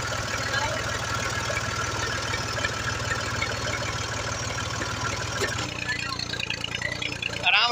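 Tractor engine idling steadily in a rural field, a loud continuous low rumble that drops and thins near the end.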